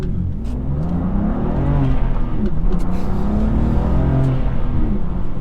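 A BMW M2 Competition with a Remus exhaust revs up hard from a standing start with the exhaust valves closed, its deep exhaust note rising steadily and staying loud close by.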